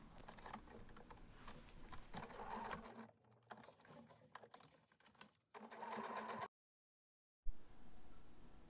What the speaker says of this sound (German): Ich nähe hier ein Rechteck.